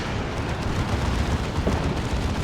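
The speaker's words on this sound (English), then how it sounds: "That's a creeping barrage from the Lord General to try and help out that Leman Russ and protect it." A creeping artillery barrage in Dawn of War 2, heard as a continuous roar of overlapping explosions that rumbles heavily and densely without a break.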